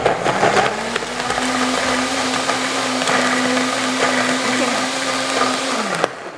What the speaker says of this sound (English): I'm gonna go ahead and blend.